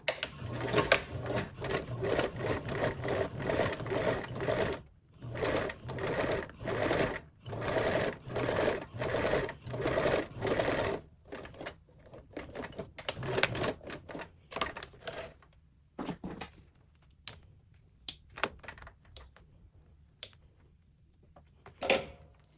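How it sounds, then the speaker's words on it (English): A home sewing machine top stitching fabric with a narrow eighth-inch seam allowance, running in close, loud bursts of rapid stitching separated by short pauses, then giving way to scattered clicks and handling sounds. "I'm gonna top stitch with a 1/8 seam allowance."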